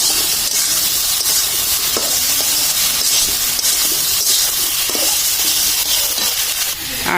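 Lentil fritters (bora) are frying in a pan for a vegetarian cauliflower and potato dish, giving off a loud, continuous oily sizzle and hiss with faint stirring scrapes throughout.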